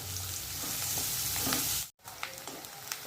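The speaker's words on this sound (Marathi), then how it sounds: "आता कांदा आपण छान लालसर होईपर्यंत परतून घेऊया" Sliced onion with a pinch of salt frying in a pan for a flower chutney gives a steady, close sizzle. It cuts out for a moment near the two-second mark, then returns with light stirring clicks.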